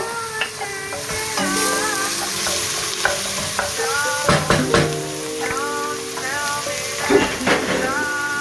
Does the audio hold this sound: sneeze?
no